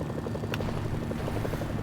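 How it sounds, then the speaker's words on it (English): Helicopter in the video game Mercenaries: Playground of Destruction, its rotor chopping in a steady rapid pulse that stays loud and continuous throughout, with no talking. "Incoming helicopter."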